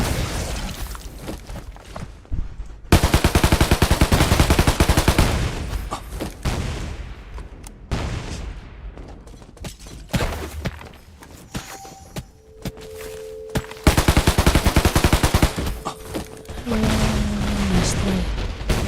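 Gunfire in the Undawn video game: rapid bursts of automatic shots and heavy thuds come loud and close, pausing briefly between volleys, with scattered footsteps and a few game tones mixed in.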